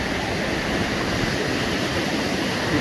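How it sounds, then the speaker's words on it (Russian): The Chara waterfall roars through a steep mountain gorge as a loud, steady, broadband rush of churning water with no voices. "Бурлящий водопад Чара."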